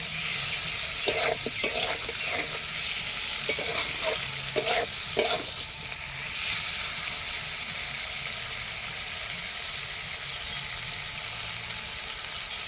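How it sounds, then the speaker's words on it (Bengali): Fried potato and cauliflower pieces stirred into cooked spice masala in a pan, with steady sizzling and several scraping stir strokes in the first half before a continuous frying hiss settles in alone. "দিয়ে ভালো করে মিশিয়ে নেব মশলার সঙ্গে।"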